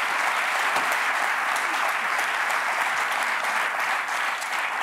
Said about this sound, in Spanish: Un aplauso para Ivón